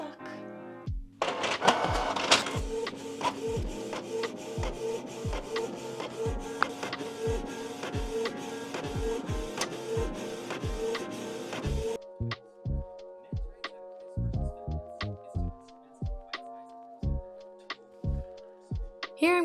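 Printer printing a pattern for a cauldron purse, loud close rhythmic carriage clicks and motor whirring in a steady repeating beat, thinning to sparser clacks near the end.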